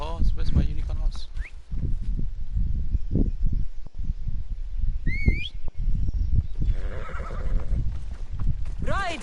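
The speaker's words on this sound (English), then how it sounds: "Where's my unicorn horse?" Horse neighs and whinnies in the ancient Greek open world of the Assassin's Creed Odyssey video game, with clip-clop hooves, rustling and occasional bird chirps underneath, plus brief speech.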